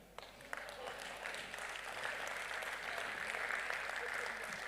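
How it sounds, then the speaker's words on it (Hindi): Audience applause at a Hindi comedy poetry gathering (hasya kavi sammelan), a steady, dense wash of many hands clapping that holds evenly for several seconds at moderate distance, with no talk over it. "बात अच्छी लगे तो आपकी तालियां चाहूँगा।"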